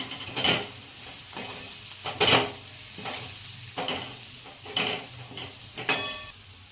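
A utensil scrapes and stirs Kashmiri chilli powder and spices through green chillies in a pan, in regular strokes about a second apart, over a steady low sizzle of frying.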